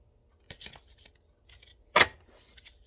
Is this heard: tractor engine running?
no